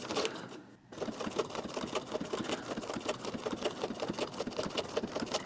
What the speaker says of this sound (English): Sew nice and slow at first and then speed it up a little.